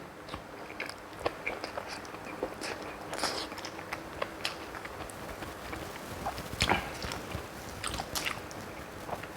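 Close-up chewing of a big mouthful of sticky rice with spicy bamboo-shoot mok, steady soft mastication with crisp bites and crunches throughout, no talking.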